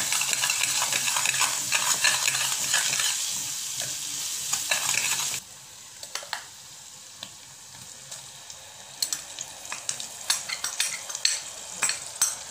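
Tomato paste with ginger-garlic paste being stirred and sautéed in oil in a pan while making matar paneer: steady close sizzling and frying with scraping stir strokes, louder for the first five seconds, then quieter frying with sharp utensil clicks.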